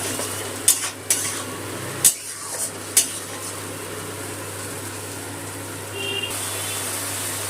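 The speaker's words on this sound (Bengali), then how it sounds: "পেঁয়াজ বাটাটা একটু তেলের মধ্যে কষিয়ে নেব।" Onion paste frying in oil in a pan, a soft continuous sizzle with a few sharp spatula clinks and scrapes early on, then quieter steady frying, close and without talking.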